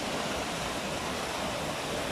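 Flowing water babbles steadily in a town setting with cypress trees and mountains, a constant dense rushing wash at moderate level with no pauses and no voices.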